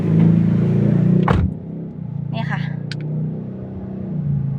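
A Toyota Altis 1.8 Sport starts from its push-start button: a brief click and crank give way to a low, steady idle rumble, with someone talking over it.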